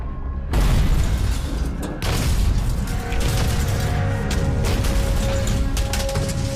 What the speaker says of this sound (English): And when the depth charge exploded